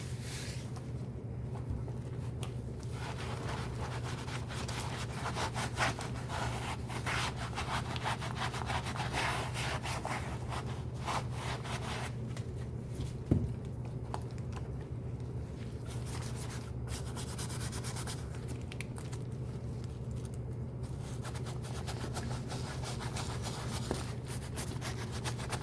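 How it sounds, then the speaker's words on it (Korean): Brush scrubbing foamy cleaning lather over a mold-stained leather bag, including the inner leather pockets: a continuous close rubbing and swishing that runs steadily throughout with no talk. "이렇게 거품을 내서요."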